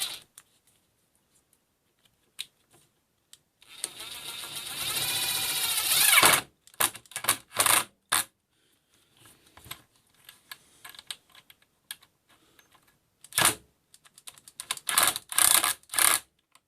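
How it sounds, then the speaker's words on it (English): A screw being driven to fix a cabinet catch in a trailer, heard as a sustained whirring burst of a few seconds followed by short clicky, ratcheting bursts, close and fairly quiet. "I'm just going to go ahead and screw it in there."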